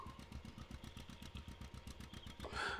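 A tractor engine chugs in a farming video game during muck spreading, a quiet, rhythmic mid-pitched putter with regular pulses, briefly swelling louder near the end, with no talking.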